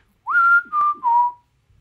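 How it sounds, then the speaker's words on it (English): Three short whistled notes in quick succession, a rising slide then two steady tones, clear and close with silence around them. "Can you whistle?"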